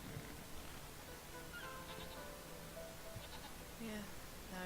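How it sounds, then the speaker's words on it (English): Faint goat bleats in the video game Jade Empire come and go over a steady hiss of background noise, a few short calls scattered through. "now I'm back to the goats"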